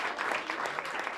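Officials clapping and cheering to welcome an incoming Prime Minister at Number 10 Downing Street, a steady brief burst of applause from a crowd.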